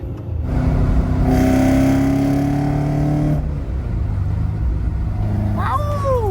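A stock Toyota AE86 Hachiroku drives on roads in Texas, its engine droning loudly and rising in pitch under acceleration, then easing off into a steady cruise, with brief voices near the end.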